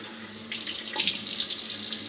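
Tap water runs steadily into a sink during a rinse while grooming, a close, continuous hiss that starts abruptly and keeps flowing without pause.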